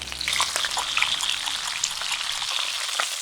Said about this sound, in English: Fry the peppers for 20 minutes on each side